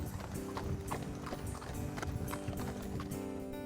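Horse hooves clip-clop in a steady rhythmic gait on a trail ride through a Utah park with sandstone and lava rock, continuous and fairly faint against a dense background.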